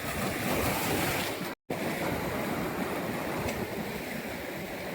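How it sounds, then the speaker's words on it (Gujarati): Rough, stormy sea waves crash and roar continuously on Nagoa Beach in Diu, a loud, dense wash with wind buffeting the microphone and one brief dropout. "દરિયો બહુ તોફાની છે અત્યારે, તમે જોઈ શકો છો."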